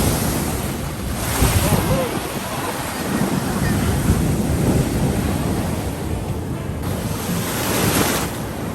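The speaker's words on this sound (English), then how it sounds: "The waves were super crazy here." Rough sea waves crashing on the shore in Qingdao, a loud continuous surging roar with swells rising and falling over several seconds, laced with strong wind noise and no talking.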